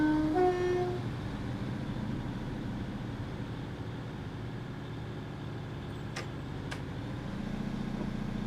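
A Class 150 diesel train departs Somerleyton station on the Norwich to Lowestoft line in Train Simulator 2016. A brief tonal horn-like note opens a low, steady rumbling roll, with a few sharp clicks near the end.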